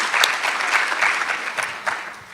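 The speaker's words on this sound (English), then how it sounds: "let's just take a second and applaud ourselves for the success we've had" Conference attendees at a Shots for Tots vaccine meeting applaud themselves, a brief burst of clapping that peaks early and gradually thins out toward the end.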